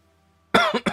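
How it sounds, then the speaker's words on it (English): A single sharp cough followed by two shorter coughs in quick succession, close and loud after a moment of near silence. "And the cough is still lingering,"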